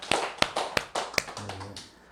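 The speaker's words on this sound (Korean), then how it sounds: "박수 한번 보냅시다." Applause at a Buddhist dharma service, a short burst of sharp, evenly spaced claps close by, then a brief low tone at the end.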